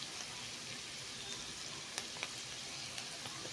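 Onion frying in butter in a pan gives off a steady, quiet sizzle, a soft continuous hiss with a few faint pops and clicks scattered through it.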